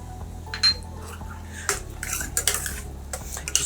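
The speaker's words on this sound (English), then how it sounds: "we're just going to add about 50 grams of sliced chorizo in" Sliced chorizo goes into a pan for a tomato and chorizo linguine, heard as metallic clinks of a utensil on the pan and a few scraping knocks, close and fairly quiet with no talk.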